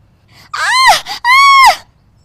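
A woman screams as her sari catches fire, two loud, close, anguished cries in quick succession with a brief gasp between them, nothing else underneath.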